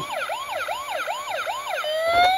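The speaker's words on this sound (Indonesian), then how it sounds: "mobil polisi" A toy police siren wails in quick, repeating rising-and-falling cycles, then shifts into a steady rising tone.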